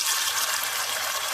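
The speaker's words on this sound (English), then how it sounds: "And now I'm going to put water." Water pouring into a pot of rinsed yellow split peas, a steady bright splashing gush heard up close, continuous and alone.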